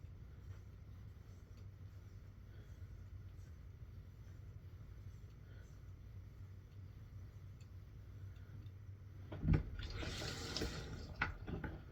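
A razor is rinsed under running water from a tap, a burst of splashing flow starting near the end after a steady low hum, fairly close and without talk.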